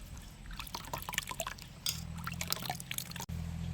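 Water trickles and pours over sesame seeds being washed by hand in a village kitchen, a close, wet splashing and dribbling that swells partway through and carries on with small drips.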